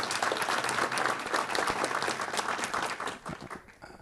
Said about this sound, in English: So I want a big round of applause for all of this, the Turkish Marif Foundation members.